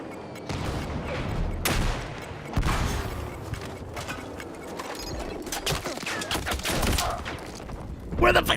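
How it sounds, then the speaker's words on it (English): Bursts of gunfire crack out in a military-simulation shooter game, sharp repeated shots and rattling volleys firing toward the player at close to medium range, with mechanical clicks in between. "Who's shooting at me?"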